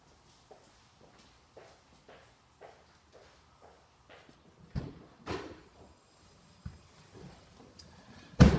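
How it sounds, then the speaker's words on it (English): Door of a 2012 Audi A4 at a dealership, sounding as a run of soft clicks and handling taps followed by several firmer thuds as it opens and shuts nearby, with the last slam loudest, and no talk. "I'm gonna open this door here"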